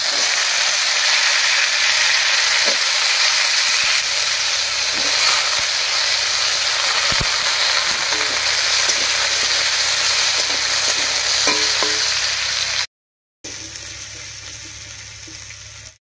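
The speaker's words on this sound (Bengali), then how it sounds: "ফোড়নটা ভাজা হয়ে গেছে, এবার এর মধ্যে দেব কেটে রাখা কাঁঠালের বিচি।" Cut jackfruit seeds fry in hot mustard oil over a cumin and bay leaf tempering, producing a steady, loud hissing sizzle with occasional stirring knocks and a brief gap near the end.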